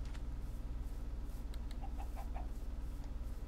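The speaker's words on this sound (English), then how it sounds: "I'm seeing more chickens is what I'm..." Chickens in Minecraft give a few soft, short clucks amid a quiet, steady low background hum, faint and spaced out near the middle.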